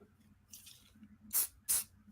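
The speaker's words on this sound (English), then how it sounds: "Spray it down." Two short, sharp hissing bursts of accelerator spray misted onto glue on a model monster truck part, close and quiet, preceded by a fainter soft spritz.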